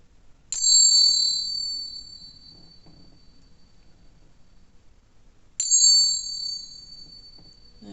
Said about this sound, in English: it's just going to be 3 loud dings